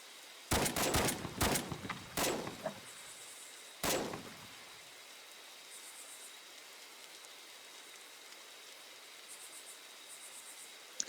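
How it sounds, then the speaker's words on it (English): Three loud rifle shots in the video game BRM5, fired in a quick cluster and followed by a fourth lone report a moment later, each with a short echoing tail, then a quiet hiss of rain-like ambience. "Correction, fire 3 times."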